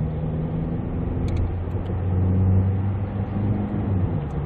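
A SsangYong Rexton Sports Khan diesel pickup accelerates hard up a slight incline, its engine a steady low drone heard from inside the cabin that swells briefly mid-way, with no talking.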